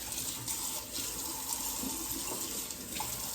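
A kitchen tap runs steadily while hands are washed during meatloaf preparation, making an even, close rushing hiss of water throughout.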